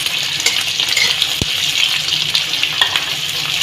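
Chopped onions frying in hot mustard oil for a yogurt meat curry, a loud, dense, continuous sizzle with a sharp knock partway through, no talk.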